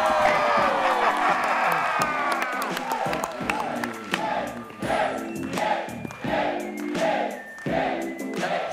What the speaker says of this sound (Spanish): Un fuerte aplauso para recibir a Michas y Cacha.